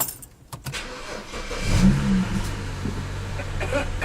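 BMW car engine cranking and starting from inside the cabin, a brief whir followed by the engine catching and settling into a steady close rumble.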